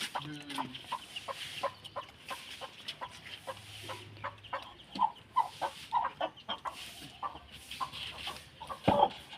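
A large fighting rooster clucks in short, repeated bursts at an uneven rhythm, fairly close, with little talking around it.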